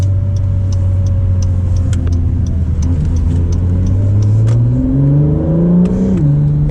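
A 2017 Acura NSX hybrid all-wheel-drive sports car accelerating hard, the engine note rising steadily through the gears with a whirring hybrid whine, then a brief dip at a shift before climbing again, loud and close from inside the cabin.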